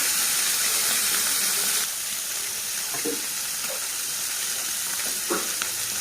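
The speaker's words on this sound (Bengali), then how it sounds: "রান্না করব ঝিঙে দিয়ে, তাই হালকা করে ভেজে নিচ্ছি।" Small sea fish lightly frying in oil in a pan for a ridge gourd curry. A loud, dense sizzle drops to a softer steady fizz after a couple of seconds, with a few faint clinks.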